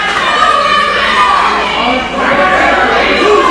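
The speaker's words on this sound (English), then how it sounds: "It sounds to me like the crowd is behind Sassi" Wrestling crowd at a triple threat match cheering and shouting, a continuous roar of many voices with children's shouts mixed in, loud and sustained.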